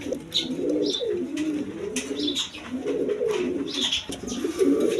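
Pigeons coo repeatedly in low, throaty rolling calls, several birds overlapping close by with a few higher chirps above.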